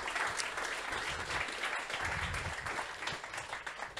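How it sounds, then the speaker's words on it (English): Applause from staff at a Teamwork.com company all-hands meeting rolls on continuously for a few seconds, even and moderately quiet, with no talking over it. "So maybe another round of applause for the Spaces team."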